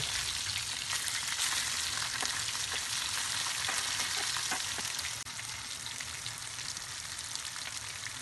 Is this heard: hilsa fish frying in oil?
yes